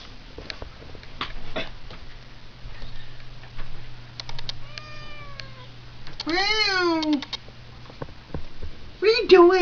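A cat meows several times with rising and falling wails, the cries growing louder and more drawn out, while a person's voice calls nearby against faint background patter.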